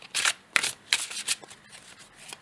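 Oracle cards shuffled by hand in several quick riffling bursts, close and crisp, with softer card movement tapering off toward the end.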